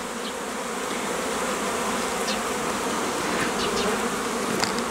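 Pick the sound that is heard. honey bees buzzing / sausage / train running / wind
honey bees buzzing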